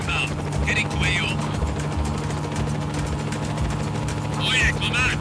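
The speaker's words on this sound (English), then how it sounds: "Enemy air unit detected. Weapons are up. Off we go. Helicopter inbound." Helicopter in the Just Cause 4 video game, a steady rotor drone running under game radio voices and effects throughout, fairly loud and constant.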